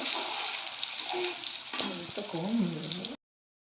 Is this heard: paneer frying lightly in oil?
yes